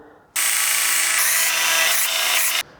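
A wooden knife handle on a Bowie knife build is ground on a power grinder, one steady loud abrasive burst of about two seconds that starts and stops abruptly, with no talking.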